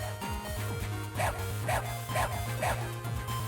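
A dog in the video game Mega Man Battle Network 5 gives a series of short, evenly spaced synthesized barks over looping game music with a steady low hum.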